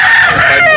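A loud, close rooster crow, a brief strained call filling the whole moment.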